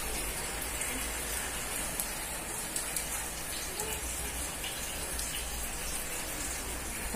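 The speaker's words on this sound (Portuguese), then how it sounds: "Tá chovendo." Steady rain falling outdoors on a Sunday afternoon, a dense, even hiss of drops on surfaces that stays constant throughout, with no voices.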